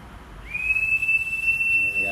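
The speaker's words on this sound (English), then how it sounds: "listen for the audible warning whistle, which should go off at 55 plus or minus 5 bar" A steady high-pitched low-pressure warning whistle from a self-contained breathing apparatus starts abruptly and holds at one pitch, loud and continuous, with faint background noise beneath it.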